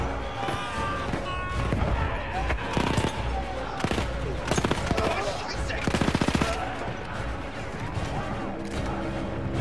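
Rapid automatic weapon fire in Battlefield 1 crackles in dense bursts and single shots over a loud, cluttered battlefield mix, with a voice talking at times.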